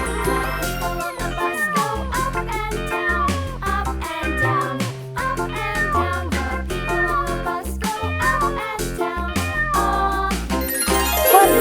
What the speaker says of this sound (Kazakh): Бұл мысық қой. Мысықтар мяу дейді.